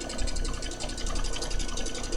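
A domestic sewing machine stitching during free-motion quilting, running in a fast, continuous whirring buzz with a rapid needle pulse, close and steady for the whole stretch.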